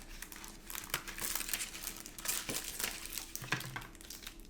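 Simple packaging of a red Kqimi super thin hard plastic case for a Sony Xperia 1 being handled close up, soft crinkling and rustling with small taps, quiet and without talk.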